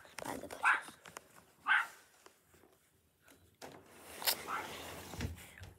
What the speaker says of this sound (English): She's barking at something.